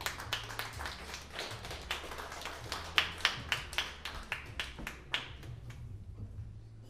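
A concert audience at a violin festival claps with scattered, uneven hand claps, a modest group rather than a roaring crowd, that fade out after a few seconds.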